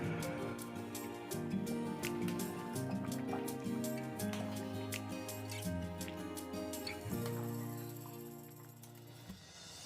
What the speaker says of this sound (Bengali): এবার এই মুগ ডালটা ভালো করে ফুটিয়ে নিতে হবে।